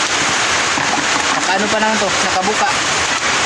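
Rain falls outdoors in a broad, constant patter and splash, loud and close, while someone talks over it.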